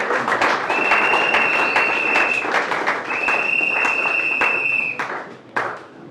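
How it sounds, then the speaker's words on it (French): A church congregation at a Sunday service claps and applauds to acclaim Jesus, a dense steady burst of many hands with a sustained tone over it, fading out near the end. "Si vraiment ça c'est l'acclamation de Jésus là"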